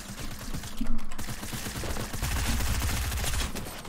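SMG gunfire in the video game Fortnite, rapid dense bursts of close automatic shots rattling almost continuously, loud throughout with a slight surge early on and no talking.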